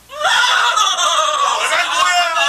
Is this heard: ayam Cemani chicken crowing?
no